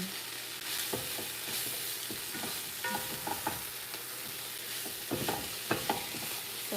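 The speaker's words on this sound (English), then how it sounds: "all I'm trying to do is to keep stirring it to not burn until its water content reduces" A spoon stirs vegetable sauce simmering in a pan, giving a steady wet sizzle with repeated scraping strokes and soft clicks against the pan, close and continuous without any talk.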